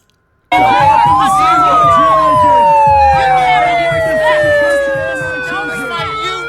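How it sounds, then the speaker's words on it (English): A loud wailing non-police siren sweeps up and then slowly falls in pitch, with a rumbling vehicle and a repeating pulsing tone underneath. "that siren in the background, that's not the police."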